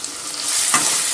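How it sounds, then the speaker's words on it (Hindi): Chopped onion and potato hit a hot pan on medium flame and are stirred, a loud close sizzle with scraping swirls of stirring, no voices. "अब इसमें प्याज और आलू साथ में डाल देंगे जो हमने चॉप करके रखे हैं।"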